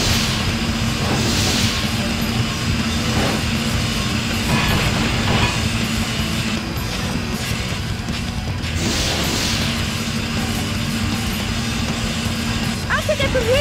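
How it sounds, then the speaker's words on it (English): An armored train in the Sonic Heroes video game rumbles and clatters along the rails, loud and continuous, with hisses and metallic crashes over game music. "Armored train approaching."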